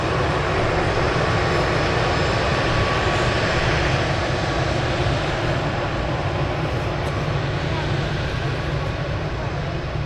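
An Airbus A380 airliner at Manchester Airport gives off a loud, continuous engine roar that holds steady throughout, with people talking underneath.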